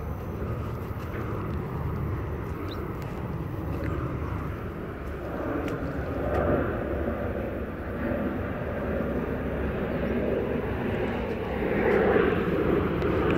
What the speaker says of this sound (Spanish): Acá sobre este lugar donde me encuentro pasan todos los aviones